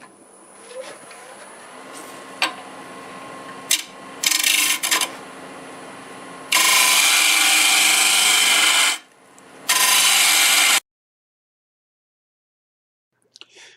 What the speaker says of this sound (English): I'm going to use the hollowing tool here for just a little while I turn the corners